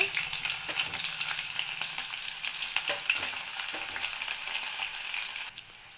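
Onions sizzle in hot oil with cumin and mustard seeds while cooking for a bitter gourd fry, a steady close crackle with light stirring clicks across the whole stretch, no voices.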